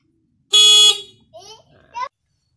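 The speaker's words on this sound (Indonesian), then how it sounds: "Ini kalau klakson standar bunyinya seperti ini." A loud, bright standard car horn blares once for about half a second, followed by two shorter, quieter honks with falling and rising pitch.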